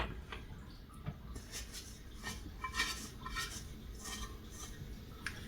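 Dough placed into a clean ceramic baking bowl during sourdough bread making gives soft knocks and light clinks of ceramic, a few scattered handling sounds at close range with no voices.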